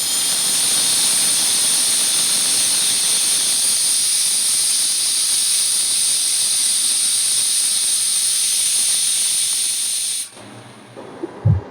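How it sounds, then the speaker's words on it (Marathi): A pressure cooker on the stove, cooking dal khichdi, vents steam in a loud, sustained high hiss for about ten seconds, then cuts off abruptly, leaving a few faint knocks. "आता आपल्या कुकरची शिट्टी"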